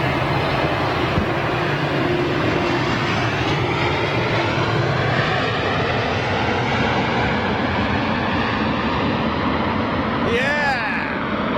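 An airliner arriving on runway 27R at London Heathrow Airport roars loudly and continuously at close range in the early morning, a broad engine rumble that fills the whole stretch, with a voice rising briefly over it near the end.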